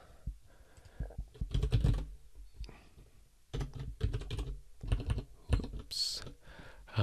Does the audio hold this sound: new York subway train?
no